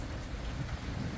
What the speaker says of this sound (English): The rain ain't gonna melt me.